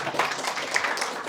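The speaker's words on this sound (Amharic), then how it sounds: "እስቲ ሞቅ ያለ ጭብጨባ።" Guests at an evening event burst into warm applause, a dense, steady clapping from a crowd at moderate distance that holds for a short moment.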